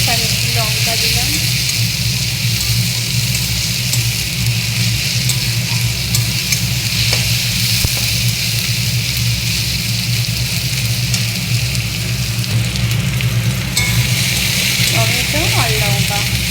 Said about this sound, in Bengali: পেঁয়াজগুলো সব ভাজা ভাজা হয়ে গেছে